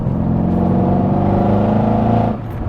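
A 735 bhp Mercedes E63 AMG engine revving loudly and close, a sustained rich drone that holds steady and then drops off near the end, with no talking.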